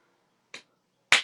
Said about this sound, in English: We have snapping.